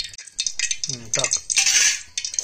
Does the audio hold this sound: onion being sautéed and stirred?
yes